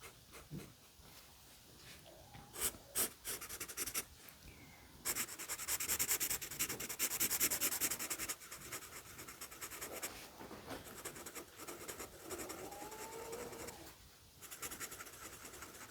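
Quiet, scratchy strokes of a marker across paper come in uneven bursts and steady rubbing passes, close up, with no talking.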